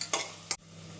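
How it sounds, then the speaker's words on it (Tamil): Two brief bursts of stirring and scraping ground masala in a pan, with a soft sizzle lingering underneath, while cooking village-style chicken gravy. "அரைத்த மசாலா சேர்த்து 1 நிமிடம் நன்றாக வதக்க வேண்டும்."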